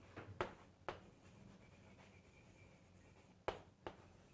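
Marker or chalk strokes on a board during a biology class, with sharp taps and short scratchy strokes spaced apart over a quiet room hum.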